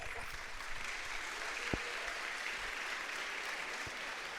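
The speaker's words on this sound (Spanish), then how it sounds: "todo eso que ustedes han dicho merece un aplauso" Applause from a church congregation during a sermon, a soft, distant, steady patter of clapping that stays even throughout, with a single sharp knock partway through.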